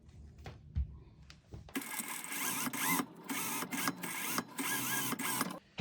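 A sewing machine stitches a French seam in chiffon, starting after a few faint handling sounds and running loudly and steadily with brief pauses and restarts.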